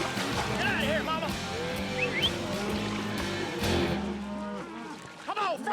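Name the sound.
cow being driven into a pond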